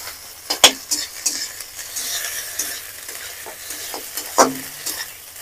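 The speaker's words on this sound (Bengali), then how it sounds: "একটু ভালো করে ভেজে নেবো নেড়ে চেড়ে।" Grated garlic and ginger paste is stir-fried in a pan: a light sizzle is punctuated by sharp spoon scrapes and clinks against the metal, close and clear, with no voices.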